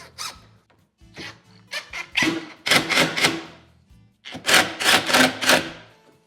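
Rapid bursts of mechanical clattering from an impact driver's clutch ratcheting against a screw while assembling a sink base cabinet come in short groups separated by pauses, close by and fairly loud.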